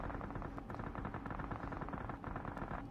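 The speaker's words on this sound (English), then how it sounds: "Few shots being fired onto Harsh, who's been spotted out." Quiet, distant gunshots in PUBG Mobile come as a steady rattle of rapid fire, faint and continuous throughout, with no voices.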